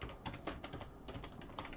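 Quick, light typing on a computer keyboard, a steady patter of close, crisp key taps with no talking.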